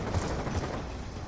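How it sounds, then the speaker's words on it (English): Gun reload in Call of Duty: Black Ops 2 gameplay, a short run of mechanical clicks and ratcheting metal over a steady wash of game noise and background rumble, with no clear voice. "Reloading."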